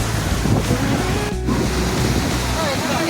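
Sea waves break along the shore at Mandarmani beach, a steady, full roar of surf mixed with wind buffeting the microphone, continuous and close throughout.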